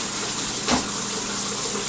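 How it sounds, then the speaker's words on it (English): Cold tap water pouring steadily into a strainer of boiled eggs in a kitchen, a loud continuous gushing splash heard up close, with a brief surge partway through. "put it in a strainer with cold running water"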